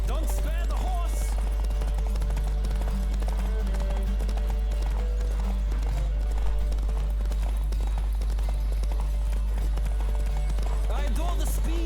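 Fast, continuous hoofbeats of a galloping horse in the video game The Witcher 3, over a constant low hum, with voices at times.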